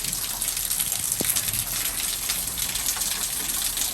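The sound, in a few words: heavy rain falling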